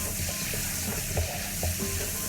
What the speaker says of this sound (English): we have to saute slice garlic